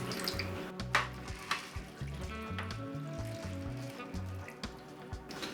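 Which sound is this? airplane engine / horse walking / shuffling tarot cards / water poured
water poured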